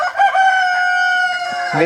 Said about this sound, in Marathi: कोंबड्या भरपूर आहेत कोंबड्या बी आहेत